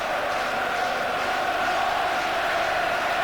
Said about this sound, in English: still a very, very big crowd here for this match